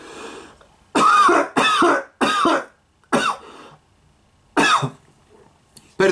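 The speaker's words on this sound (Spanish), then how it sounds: "tenía ganas de toser" Several loud, harsh coughs close by, a burst of three in quick succession, then two more spaced out, with quiet pauses between.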